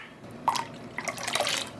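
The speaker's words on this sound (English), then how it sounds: "I am going to quickly rinse out the graduated cylinder." Water runs and drips while a graduated cylinder is rinsed during yarn dyeing, with two short bursts of splashing and trickling at close range and no talk.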